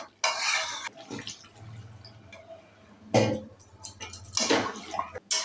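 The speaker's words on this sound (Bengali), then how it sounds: "এবার জল দিয়ে দিচ্ছি।" Water poured into a pan of cooking meat curry with capsicum and fried spices, coming in short splashing bursts with quiet gaps and a low hum between.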